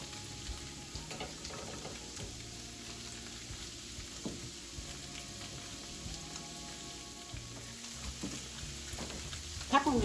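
Food fries in a pan with a faint, continuous sizzle and crackle, punctuated by occasional soft clicks and a louder pop at the end, while a voice talks quietly.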